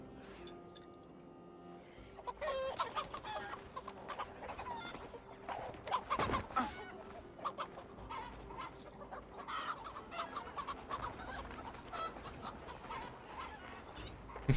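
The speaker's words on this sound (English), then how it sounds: "Getting chased by chickens." Chickens clucking and squawking in the Viking-era game Assassin's Creed Valhalla, repeated close clucks and a sharp flurry of alarm calls over a quiet ambient bed.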